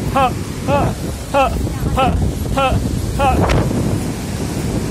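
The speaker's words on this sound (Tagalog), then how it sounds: "ang hangin dito." Strong wind buffets the microphone in a low, roaring rush on a mountain trail on Mt. Pulag while a person talks over it in Filipino.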